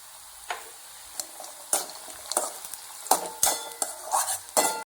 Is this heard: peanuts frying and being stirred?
yes